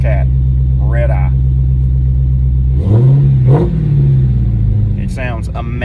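A supercharged 6.2-liter Hemi in a Dodge Hellcat Redeye rumbles loudly at idle, then swells into a rev around the middle before settling back, with brief voices speaking over the engine noise.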